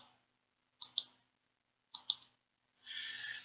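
A computer mouse clicks on a zoom button: two quick paired clicks about a second apart, sharp and close in a quiet room, followed by a brief soft rustle.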